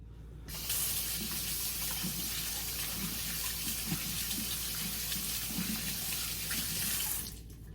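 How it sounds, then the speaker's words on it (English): Kitchen tap water running into a sink for handwashing before cooking, a steady close rushing stream lasting several seconds, starting and stopping abruptly, with no talk. "The very first step before cooking anything is to wash your hands."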